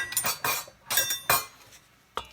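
A spatula scrapes cookie dough off a metal spoon in a handful of quick, close, bright metallic scrapes and clinks, followed by one final light tap, with no talking.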